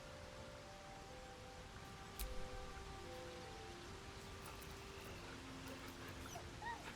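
A dog in the Baldur's Gate video game whimpers in soft, drawn-out tonal whines that come and go over steady rain-like ambience, with no talking.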